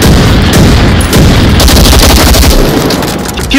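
Loud, dense gunfire in the Onward VR shooter: rapid overlapping shots and bursts hammer away almost without pause, close and harsh for the whole stretch.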